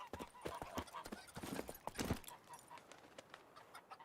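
Roach, Geralt's horse in The Witcher 3: Wild Hunt, trots with clear rhythmic hoof clip-clops close by, a brief whinny mixed in, fading slightly toward the end.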